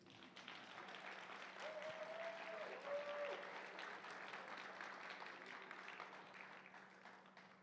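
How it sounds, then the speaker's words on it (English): An audience at a candidates' climate change forum gives a round of applause, a dense sustained clapping from a hall crowd that holds steady for several seconds. "And now we may thank her with a round of applause."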